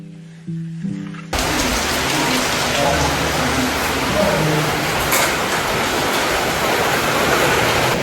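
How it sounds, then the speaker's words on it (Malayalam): Heavy rain pours steadily and loudly as a dense, unbroken hiss that begins abruptly after a short moment of quieter sound and holds without letup to the end. "ആ സമയത്ത് നല്ല മഴയുണ്ടായിരുന്നു കേട്ടോ."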